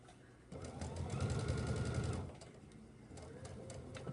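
Sewing machine with an 80/12 needle stitching standard cotton fabric, a close, steady rapid whirring hum that swells for about two seconds then drops to a softer run.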